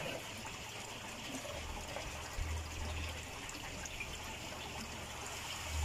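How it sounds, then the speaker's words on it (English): An air pump drives air through air stones in an aquaponics fish tank, giving a soft, steady bubbling and trickling of water at low level throughout. "the air bubbles is coming from the air pump"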